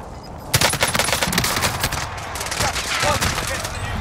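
Loud, rapid automatic gunfire rattles in Call of Duty Cold War Warzone, with dense bursts of shots filling the whole stretch.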